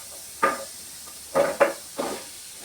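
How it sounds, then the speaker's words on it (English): Onions dropped into a heated pan for chilli, giving a few short bursts of sizzling hiss, one near the start and a cluster of three toward the end, each fading quickly, with no talking. "Oh, that was a nice sizzle"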